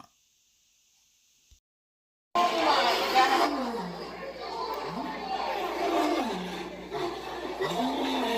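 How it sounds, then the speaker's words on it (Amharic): After a brief near-silence, a crowd's chatter fills the air while a low roar rises and falls several times underneath. "አንበሳ"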